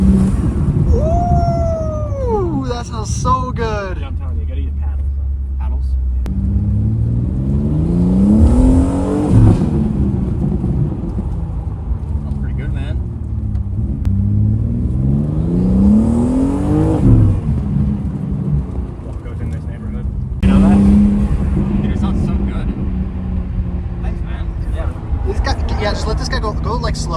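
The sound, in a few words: BMW G87 M2 with cold air intakes revving and accelerating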